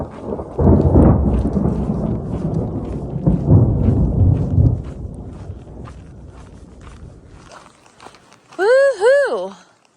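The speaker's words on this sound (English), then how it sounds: "I found the thunderstorm. Huge strike of lightning." Thunder rumbles in long low rolls during a thunderstorm on a mountain hiking trail, loud at first and fading into steady rain and footsteps, followed by a short burst of bird or animal calls near the end.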